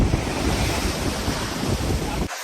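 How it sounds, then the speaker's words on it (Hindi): Strong sea waves crash at high tide on Manora beach in Karachi, a loud continuous roar of surf and wind noise that suddenly cuts off at the end. "तो आप देख सकते हैं बहुत तेज़ लहरें आ रही हैं आज"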